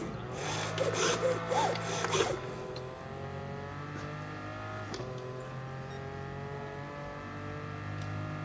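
Car engine in Gran Turismo Sport holding a steady drone with layered harmonics after a brief rougher burst near the start, loud and continuous with no talk over it.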